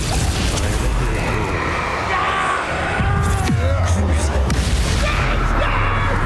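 Imperio spell cast during Hogwarts Legacy combat: a loud, dense wash of magical bursts and rumbling booms, with whooshing tonal sweeps rising and falling midway, sustained from start to finish.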